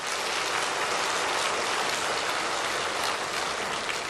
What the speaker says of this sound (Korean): 일단 박수 좀 한번 쳐줘봐.